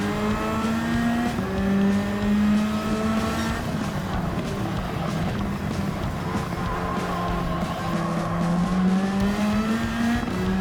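A 1997 Toyota Supra GT500 racing engine in Gran Turismo 7 on PS5 drones with a steady high-revving tone that rises and falls through gear changes, sustained and prominent throughout with little else over it.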